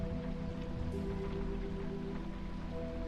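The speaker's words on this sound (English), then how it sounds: "Is it raining?" Steady rain from The Wolf Among Us video game, a soft continuous patter over a low humming ambient tone, faint and even throughout with no voices.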